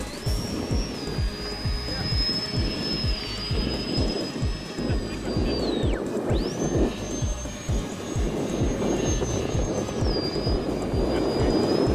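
A small twin-motor foam RC airplane whines steadily overhead, its pitch dipping and rising as it passes, with a constant buzzing drone throughout.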